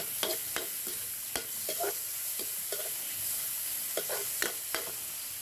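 Ridge gourd and pork are stir-fried in a pan under a soft steady sizzle, with a dozen sharp scraping and clattering strokes of the spatula at an uneven pace.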